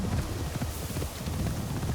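Horse hooves clip-clopping in the video game Assassin's Creed Shadows: a steady, close run of muffled low thuds in a continuous rhythm, with no voice over it.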